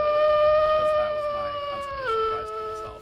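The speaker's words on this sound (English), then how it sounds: "Did everybody else hear the wolf howl?" A sustained wolf-like howl plays as a stream alert sound, long steady tones that hold and then drop in pitch partway through, with a person speaking over it.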